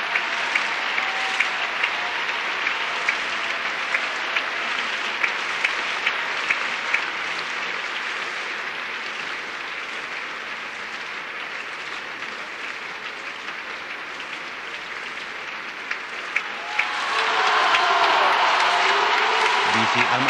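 Opera house audience at a Vienna performance of Wagner's Lohengrin giving sustained, dense applause at the curtain call, steady and enveloping for the whole stretch and swelling louder toward the end.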